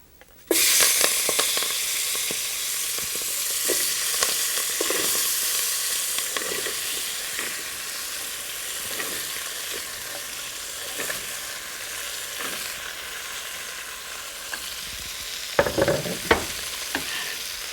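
Mixed vegetables sautéing in a hot pan with bay leaves for an Indian soup, a steady close sizzle broken by repeated scraping stirs and a couple of sharper clatters near the end.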